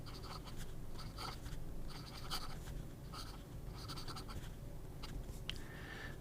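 A Sailor King of Pen fountain pen writes on paper with a run of soft, close scratching strokes, steady and rhythmic over a low room hum, with no talking.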